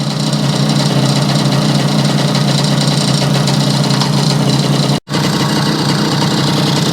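Close and loud, a Yamaha 100 Trailmaster motorcycle engine idles steadily with a buzzing, even two-stroke rumble, broken only by a split-second dropout near the end.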